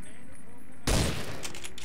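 A single loud gunshot in the modded video game Fallout 3 cuts sharply through steady in-game background noise and leaves a short, rumbling decay behind it.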